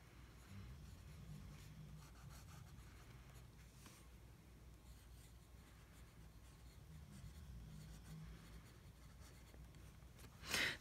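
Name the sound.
pen writing on paper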